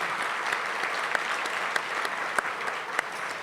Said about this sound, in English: How about one last round of applause for our pianist, Rory Bolton?